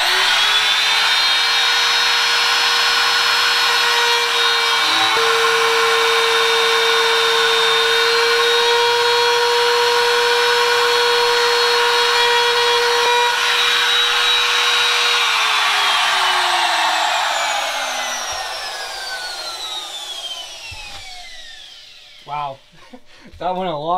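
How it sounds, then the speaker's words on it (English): Handheld router cutting through wood on a fold-down bed frame for a cargo trailer camper, a loud steady high whine with sustained cutting noise for about fifteen seconds, then the motor winding down and spinning to a stop. "I'm gonna try it with the router"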